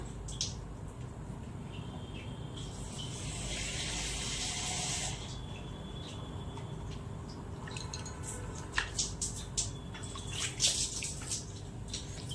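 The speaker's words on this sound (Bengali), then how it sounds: "হ্যাঁ এবার জল দিয়ে দিচ্ছি" Water is poured into a pan of spinach paste for palak paneer in a village kitchen. A soft, brief splashing pour lasts a couple of seconds over a quiet room, followed by faint drips and light clinks.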